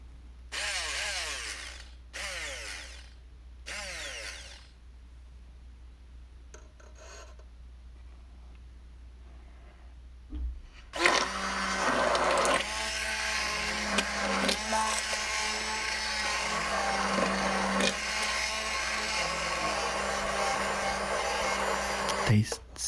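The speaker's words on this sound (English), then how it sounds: "We're gonna finally use the blender" A handheld blender whirs steadily for about twelve seconds while mixing dark chocolate ganache for French truffles, after several short scraping and rubbing sounds, the motor loud and close with a grinding, rasping texture.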